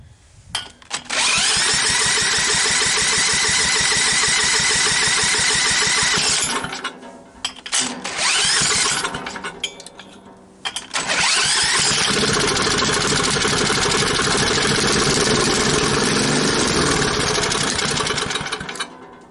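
A Troy-Bilt tiller's small engine runs loud and close with a harsh, buzzing rattle. It dips and sputters twice midway, then revs back up and keeps running steadily.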